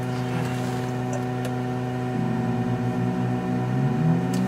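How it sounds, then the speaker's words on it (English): Multi-engine aircraft engine droning steadily with strong tonal hum, then rising in pitch and roughness partway through as the engine restarts and picks up, heard from inside the cabin. "Restarting the engine"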